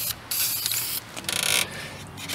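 A paint spray can hisses in bursts of about a second each while an old Ford truck water pump is coated. The bursts are loud and close, with short gaps between them and no talking.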